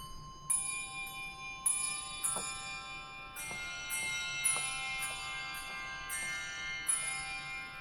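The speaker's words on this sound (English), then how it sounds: "And these handbells, with the doors open, sound like this." English handbells stop on a huge 121-rank pipe organ at National City Church in Washington DC, played with the swell doors open: a sequence of bright, ringing bell strikes about every second, each sustaining and overlapping into a shimmering wash.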